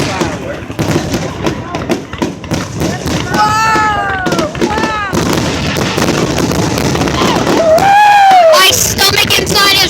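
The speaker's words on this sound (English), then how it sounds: "There's the beginning of the fireworks" Fourth of July fireworks outdoors: a dense run of booms and thuds with crackling bursts and whistling rises, mixed with a crowd talking and shouting excitedly throughout.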